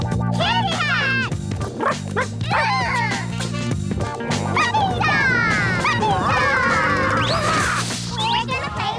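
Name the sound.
puppy dog yipping in a Garfield cartoon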